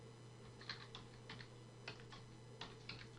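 Quiet, close-up typing on a computer keyboard, a run of light irregular key clicks in short bursts over a steady low electrical hum.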